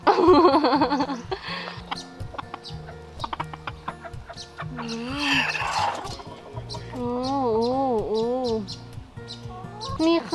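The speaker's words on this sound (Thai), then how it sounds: "อันนี้คือน้องกุ๊กไก่ที่พี่บูชอบนะคะ" Chickens cluck and call repeatedly at a cafe that keeps them, several warbling, rising-falling cries close by over steady low background chatter and clatter.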